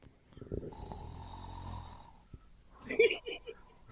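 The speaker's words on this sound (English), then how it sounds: "It sounds like snoring." Low, raspy snoring drones steadily for about a second and a half, coming from someone on a live fantasy football mock draft stream, before people start talking over it.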